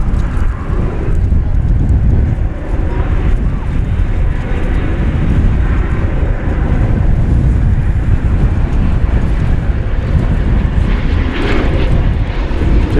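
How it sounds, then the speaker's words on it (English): Airbus A319 airliner, about 22 years old, taking off or departing at DFW Airport, a loud continuous broadband engine roar that swells slightly, with wind buffeting the microphone. "Airbus A319, this one going to Salt Lake City, 22-year-old plane."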